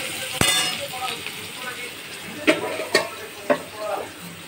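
Cooked rice with liver fried rice ingredients tipped into a hot frying pan with a soft sizzle, then a few distinct clinks and scrapes of a spoon stirring, close by.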